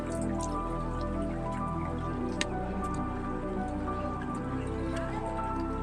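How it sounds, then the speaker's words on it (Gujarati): Rain keeps falling in a village, with water dripping close by in soft, scattered drops over a steady wet background hiss and a low hum. No voices speak. "વરસાદ પણ બંધ થતો નહીં"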